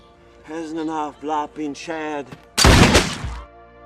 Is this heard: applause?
no